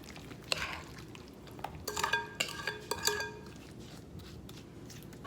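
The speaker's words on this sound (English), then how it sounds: "I'm gonna go ahead and fill it with the rhubarb filling" Rhubarb custard filling is poured and scraped into a baked pie crust, with a cluster of clinking utensil-on-dish taps and scrapes in the middle, fairly close but quiet, over a faint background hum.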